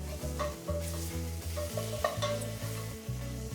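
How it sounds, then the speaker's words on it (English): Demi-glace is stirred into a pan sauce in a copper pan on the stove, a close, steady sizzle with soft scraping stirs and pulsing tones beneath, no talking. "And then add some demi-glace, which is really going to give it this depth of flavor"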